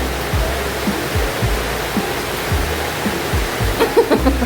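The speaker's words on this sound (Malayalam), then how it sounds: "ഭയങ്കര മഴ പെയ്യുന്നുണ്ട്" Heavy rain pours down outdoors onto rocks, a dense, loud, continuous rushing hiss that stays steady throughout, with a few soft low thumps underneath.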